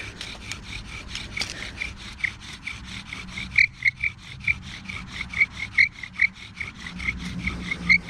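A bow drill spindle rubs back and forth against wood to make fire, driven by wet nettle cordage, giving rhythmic rasping strokes that grow into sharp squeaks, close and alone.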